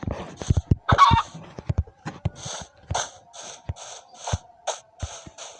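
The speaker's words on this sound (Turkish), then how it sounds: "Küçücük tavuk var mı?" A Minecraft chicken clucks in a series of short, rhythmic bursts, fairly close and clear, with a few soft thuds early on.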